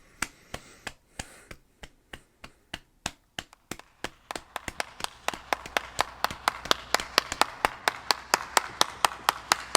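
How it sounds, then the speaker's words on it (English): One person clapping slowly, sharp single claps that start spaced apart and then speed up into a steady, rapid rhythm, close and dry with no talking. "A round of applause? Is that what you want?"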